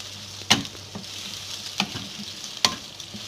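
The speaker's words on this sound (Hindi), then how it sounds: "ऑयल को हम थोड़ी देर फ्राई करेंगे।" Oil fries in a pan for a tinda curry with a soft continuous hiss, cut by three sharp spoon clinks against the pan at irregular intervals.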